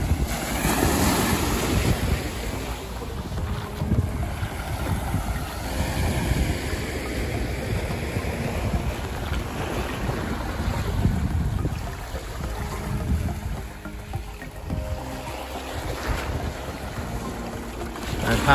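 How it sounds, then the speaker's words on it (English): Ocean waves wash and break continuously along a beach on the Sea of Abaco in the Bahamas, close and fairly loud, mixed with gusty wind buffeting the microphone. "I'm gonna be quiet and just let you hear the waves."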